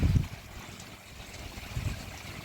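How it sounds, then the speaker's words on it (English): Water streams and trickles into a garden koi pond, a soft continuous splashing with low rumbling surges near the start and again near the end, fairly quiet and with no talk over it. "look at the stream of water coming out of there"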